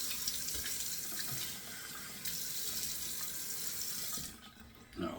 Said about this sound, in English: So running the cold water now